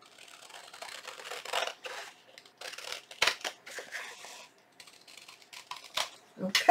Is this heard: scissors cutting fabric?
yes